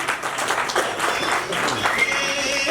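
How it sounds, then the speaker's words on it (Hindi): Steady applause from a crowd at a company Diwali celebration at a resort, dense and continuous throughout, with some voices mixed in underneath. "एक बार जोरदार तालियां हमारी टीम के लिए।"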